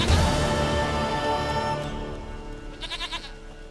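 A goat in the video game The Witcher 3 gives a short series of nasal, wavering bleats near the end, heard over a dense, loud bed of game music and ambience.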